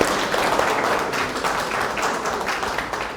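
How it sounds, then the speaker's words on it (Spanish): An audience at a political party leadership training session claps for a doctor who has just spoken, producing a steady, moderately loud patter of applause throughout. "Fuerte aplauso para el doctor Álvaro López Castorla."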